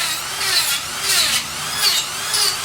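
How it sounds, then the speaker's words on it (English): Dremel rotary tool stripping bark from bonsai deadwood, a close, continuous high-pitched whine that swells and dips in a steady rhythm as the bit is pressed and eased off. "since we're going to use a Dremel tool, the rule is use eye protection"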